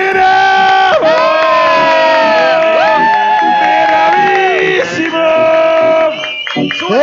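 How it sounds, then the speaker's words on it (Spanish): A studio audience at a lively TV variety show claps and cheers loudly, with sustained crowd shouting and whooping that rises and falls over the whole stretch. "¡Fuerte los aplausos!"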